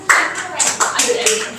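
A classroom gives a student a brief scattering of claps, a few quick hand claps heard close under a speaking voice.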